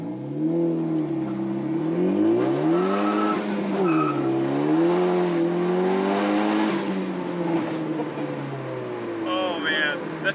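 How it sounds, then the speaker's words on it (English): A big-turbo Ford Focus ST spins its wheels, with tires squealing in a long wavering whine over revving engine tones, close and loud, and voices audible inside the car. "A little bit of wheel spin."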